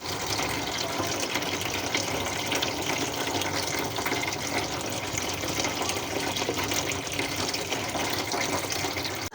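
Tap water runs in a strong, continuous gush while string beans (sitaw) are washed in a home kitchen, steady and close with no voices.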